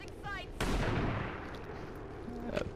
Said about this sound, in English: Spafe gets a grazing shot with the shotty.